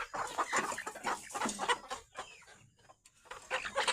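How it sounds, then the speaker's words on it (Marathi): Several chickens cluck and murmur close by in a farm shed at night, in short, irregular bursts, with brief quiet gaps between calls. "बघा कोंबड्या अशा बसतात वर"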